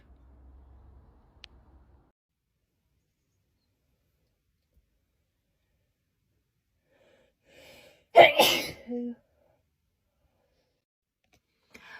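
A single sharp sneeze from someone in an allergy attack bursts out after several seconds of near silence, close and loud, with a brief tail after it.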